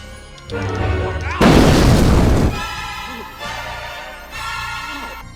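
A single loud gunshot booms in The Sims 4, standing out from a quieter game backdrop of soft tones and murmured Sim voices.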